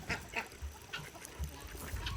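Ducks quack outdoors in a peaceful early-morning farmyard, a series of faint, separate calls spaced through the moment with low background rumble.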